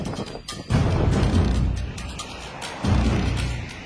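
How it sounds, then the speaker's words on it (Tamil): A cargo truck's tyre bursts on a highway, one heavy low boom followed by a second deep rumbling blast, loud and close with no talk over it. "திடீரென நெடுஞ்சாலையில் வெடித்த சரக்கு வாகனத்தின் டயர்."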